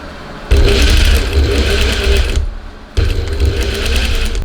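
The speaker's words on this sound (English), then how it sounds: "So I'm just going to take this to the sewing machine and stitch this together using a centimeter seam" A sewing machine stitches a fabric bucket hat seam in two steady bursts, its fast mechanical whirr and needle clatter close and loud, pausing briefly between runs.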